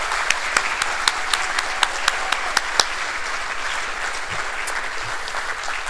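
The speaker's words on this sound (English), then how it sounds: "So how about a round of applause for the full band for that?" An audience at a 5th–12th grade school band concert applauds the full band in a steady, even wash of clapping. A few sharper single claps stand out near the front early on, and the applause then settles into a uniform patter.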